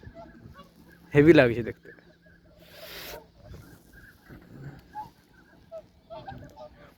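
Ducks on a crowded pond in Japan give one loud, close honking quack, followed by quieter calls, while someone speaks softly.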